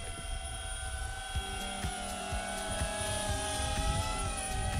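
A small quadcopter drone flies a circle about five meters out, its rotors giving a steady, continuous multi-toned buzzing whine at moderate level throughout, with no talking.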